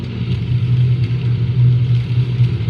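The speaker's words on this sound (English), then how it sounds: "That car is loud." A loud car engine rumbles with a deep, steady drone, near and continuous, with no voices over it.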